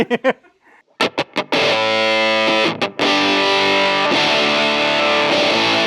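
A fuzzy, heavily distorted electric guitar through a germanium fuzz pedal plays sustained chords after a few short choppy hits, the tone buzzy and spitty.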